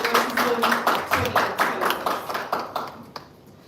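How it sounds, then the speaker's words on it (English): An audience at a media launch event gives a round of applause, a modest, moderately distant burst of rhythmic clapping that tapers off over a few seconds. "let's give a round of applause for all our contributors to"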